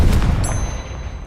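Incendio fire spell cast in the video game Hogwarts Legacy, a loud, close burst of rumbling, crackling blast with a brief bright ringing tone that trails off over about a second.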